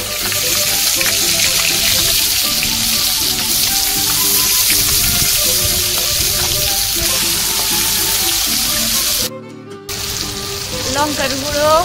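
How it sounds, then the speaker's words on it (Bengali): Fish rubbed with salt and turmeric fries in hot oil, giving a loud, steady sizzle and crackle throughout, with a brief dip near the end before the frying noise returns. "এবার ভাজতে হবে। তেল গরম হয়ে গেছে"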